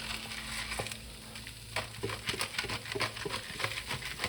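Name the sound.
food frying in a pan as pepper is added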